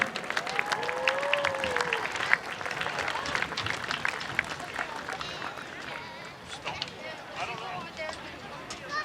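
Crowd at a high school football senior night applauds and cheers for the graduating cheer team seniors, loud sustained clapping with whistles and shouts in an outdoor stadium, slowly fading toward the end.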